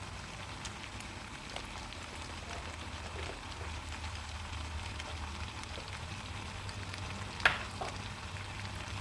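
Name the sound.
stirring tom yum fried spaghetti in pan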